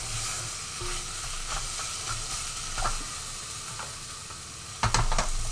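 Duck vindaloo stirred and sizzling in a pan over high heat, a steady loud frying hiss with scraping stir strokes throughout and a sharper burst of sizzle near the end.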